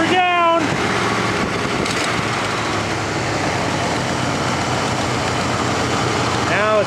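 A 1967 Buick engine idles after a cold start at 27°F, a steady, close rumble that holds even throughout, with brief voices at the start and end.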